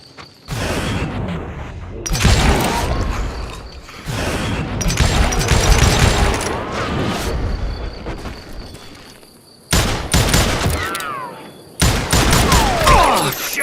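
Gunfire in the Call of Juarez Gunslinger video game comes in loud, close bursts of shots with mechanical clicks between them, separated by brief gaps.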